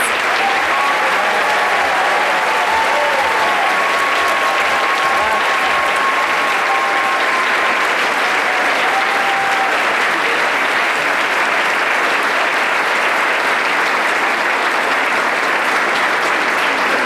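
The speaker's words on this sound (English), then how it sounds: "Can we have one final round of applause for our students?" A medical school white coat ceremony audience applauds, sustained loud clapping from a large crowd that carries on evenly for the whole stretch, with faint whoops near the start.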